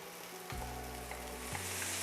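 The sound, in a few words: rice toasting in a skillet with sausage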